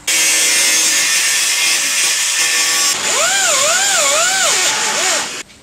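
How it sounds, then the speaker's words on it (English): A power saw cuts two slots into a 4WD body part, a loud steady broadband whine of blade on metal for about three seconds, then a wavering pitch that rises and dips as the cut progresses before stopping abruptly. "We've got the 2 slots we're about to cut out."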